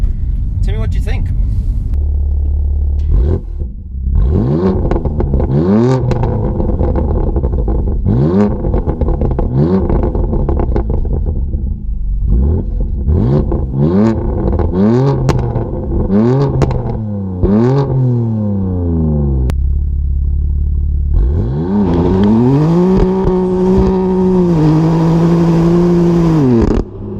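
A BMW M4 Competition Pack engine in Sport mode revs loudly and repeatedly, rising and falling in sharp bursts, then holds a steady high howl near the end.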